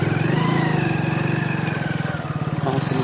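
Motorcycle engine in first gear revved lightly on half clutch, a steady mid-pitched throb with a slight rise toward the end, close and continuous with no talk.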